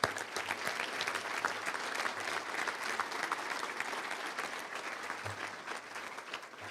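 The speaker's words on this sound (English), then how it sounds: "let's give them a round of applause" An audience at a touchdown club luncheon applauds its head coaches with steady, sustained clapping from a crowd, moderately distant, fading slightly near the end.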